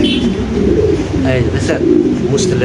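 Fancy pigeons coo steadily and closely throughout, their soft rolling calls overlapping with a low murmur of voices in the background.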